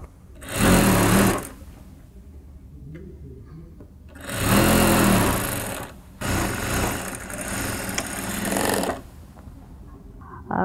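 A sewing machine stitches a dress sleeve and side seam in several long runs. The steady mechanical whir starts and stops, with quieter handling noise in the pauses.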